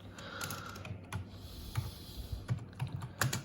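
Keys clack on a computer keyboard as a fastboot command is entered, a series of close, crisp taps at an irregular, unhurried pace with a few louder strokes toward the end.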